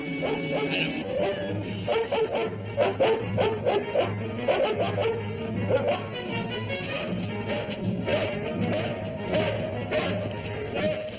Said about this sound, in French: je crois que les 2 chiens sont après nous